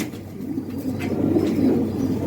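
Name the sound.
pigeon cooing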